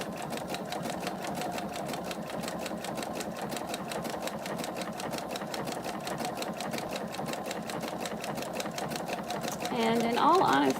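A sewing machine stitches a fabric stocking ornament in a steady, rapid, continuous whir of needle strokes, close and clear throughout, briefly growing louder near the end.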